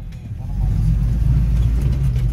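A stock UAZ off-road vehicle's engine rumbles steadily at low pitch as it drives along a tank road, a continuous close drone with slight rises in tone and no talking.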